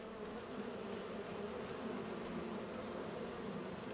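Bees buzz around their hives in the farming video game Farming Simulator 25, a steady, soft, continuous drone with no voices over it.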